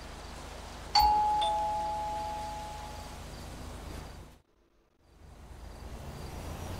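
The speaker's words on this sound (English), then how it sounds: "it says ring the bell" A doorbell in Grand Theft Auto V rings once with a clear ding that rings out and decays over a couple of seconds against quiet game ambience, followed by a brief silence.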